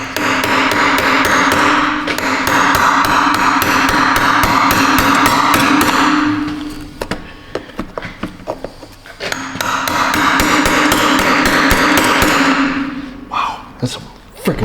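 Repeated sharp hammer blows drive a chisel through plastic on a Honda, forming two long, dense bursts of rapid loud strikes separated by a short pause with scattered single taps.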